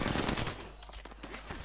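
Rapid automatic fire from an Alternator gun in a video game, a dense close burst of gunshots that stays loud throughout with no talk.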